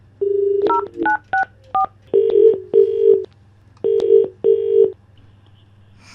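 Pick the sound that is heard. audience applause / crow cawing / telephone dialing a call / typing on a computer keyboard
telephone dialing a call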